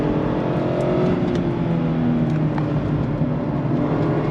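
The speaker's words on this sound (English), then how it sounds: "Heel toe downshift is freaking amazing in this car." A 2023 Mazda MX-5 RF Miata engine drones loudly and steadily close by during heel-toe downshifts under braking, its low rumble continuous throughout with no voices.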